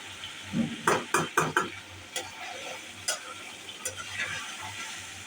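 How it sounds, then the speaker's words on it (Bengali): Potatoes and chicken meat stir-fried in a pan with plenty of oil and spices: a spoon scrapes and clatters against the pan in a quick cluster of strokes, then in scattered single strokes, over a low, steady sizzle. "এই যে দেখুন আলু কষানোটা, এই যে মাংসটা"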